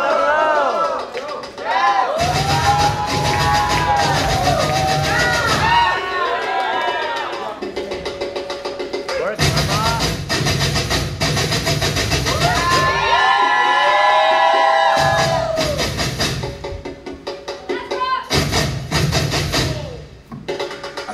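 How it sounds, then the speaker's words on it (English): An audience at a ball erupts in loud cheering, whooping and shouting in repeated bursts, swelling and dropping between short quieter gaps, with music pulsing underneath. "give a round of applause"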